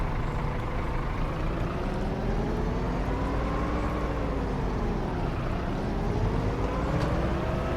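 Engine of a 100-horsepower tractor in Farming Simulator 22, a steady low drone with a rising and falling tone as revs shift, continuous and close throughout with no talk.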